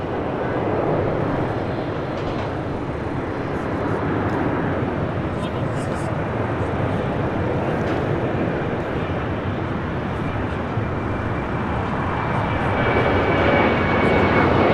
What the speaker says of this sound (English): This is United Airlines 368